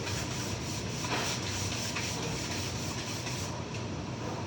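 Wooden end table top being sanded by hand, a steady dense rasping rub with faint back-and-forth rhythm, close up and continuous for a few seconds with no talking.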